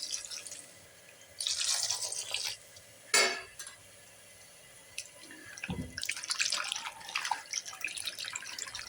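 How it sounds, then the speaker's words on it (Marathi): Green grapes are washed by hand in a bowl of water, giving bursts of splashing and dripping with a sharp clink in between, fairly close and without talk. "आणखीन एका पाण्यात धुवून घ्यायचं याला."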